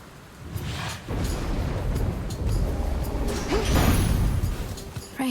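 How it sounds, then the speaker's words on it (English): Hades II game ambience: rolling thunder rumbles low and heavy over a bed of rain, with a few whooshing swells building toward a stronger peak near the end. "Raining again."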